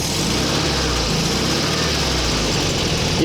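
A Volkswagen 1600 engine runs at a steady idle, a continuous loud mechanical drone and rumble with no pauses or changes in speed.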